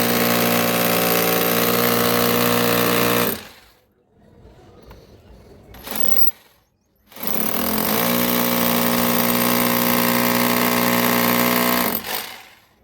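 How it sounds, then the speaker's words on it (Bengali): Power drill boring holes to mount the stand for a Godrej split AC outdoor unit, a loud close droning whine in two long bursts separated by a brief pause with faint sound. "তার জন্য আমি ড্রিল করে নিচ্ছি।"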